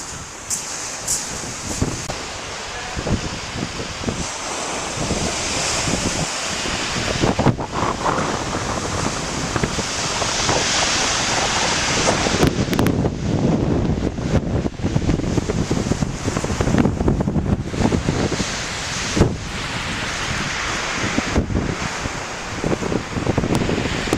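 Steady wind buffets the microphone over rolling surf breaking below a Norfolk clifftop at Weybourne on a chilly, sunny February day, a continuous loud roar with gusts and no voices.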